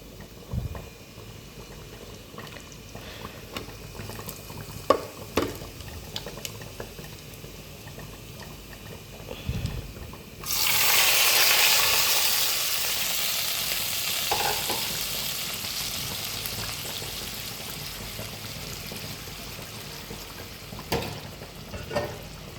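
Cumin seeds hitting hot desi ghee in a home kitchen burst into a loud, steady crackling sizzle midway that keeps hissing to the end, preceded by faint clinks and kitchen handling sounds.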